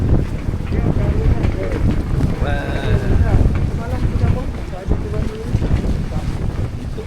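Aboard a small pom-pom motor boat heading to Pulau Penyengat, a steady engine drone mixes with rushing water and wind buffeting the microphone, loud and continuous, with people talking over it.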